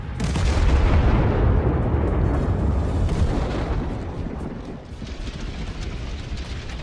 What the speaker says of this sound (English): That's how the warehouse in Tetkino exploded.